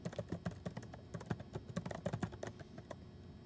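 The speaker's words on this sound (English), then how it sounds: "Now, very basically, you can start typing." Quick, uneven keystrokes clatter on a computer keyboard, a close, steady burst of typing with no voices.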